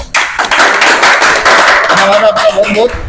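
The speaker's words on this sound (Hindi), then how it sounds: "तो ताली बजा दो भाई इसका" Crowd at a Haryana election campaign gathering in Tosham claps loudly and briskly, a dense burst of hand claps close by, with some voices mixed in near the end.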